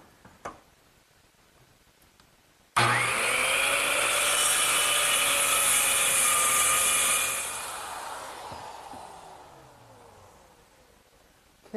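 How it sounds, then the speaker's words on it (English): A circular saw guided along a clamp straight edge trims the end of a wooden tabletop for a kitchen worktable. After a quiet start it roars up suddenly, cuts loudly for several seconds, then whines down as the blade slows. "I'm just going to use my circular saw to trim it off"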